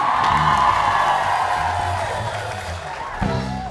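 Loud group of children shouting and cheering together at full voice, a sustained crowd-like roar that fades slightly before a brief rise near the end.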